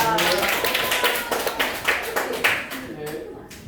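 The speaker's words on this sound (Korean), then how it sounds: "환영의 박수 부탁드리겠습니다." High-school students in a classroom clap to welcome a guest teacher, a burst of near, uneven applause that gradually thins out toward the end.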